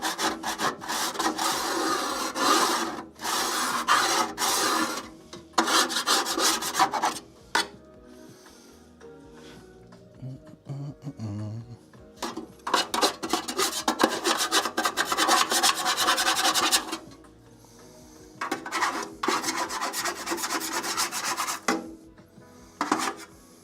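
A scraper grates residue off a Skywalker coffee roaster in loud bursts of rough rasping strokes, separated by brief quiet pauses.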